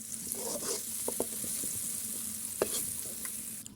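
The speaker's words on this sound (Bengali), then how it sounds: "এই যে আমরা মটরশুঁটি হালকা হালকা করে ভেজে নিয়েছি" Green peas being lightly stir-fried in a pan, a close steady sizzle broken by several sharp clicks and scrapes of a utensil against the pan, no speech.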